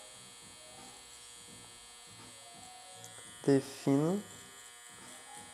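An electric shaver buzzes softly and steadily close by while finishing a mohawk fade haircut, as someone talks over it and briefly comes through louder.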